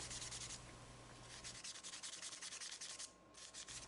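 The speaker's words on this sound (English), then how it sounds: "I finish it off with sandpaper for some fine tuning." Sandpaper rubbed back and forth on a small wooden dollhouse dresser frame, close and soft, in steady repeated strokes with a brief pause near the end.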